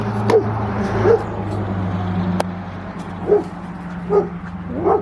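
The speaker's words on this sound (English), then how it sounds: "Dog's barking at someone." Farm dogs on a free-range duck homestead bark at a man using a weed eater nearby, several sharp barks and yips spaced a second or so apart over a steady low background hum.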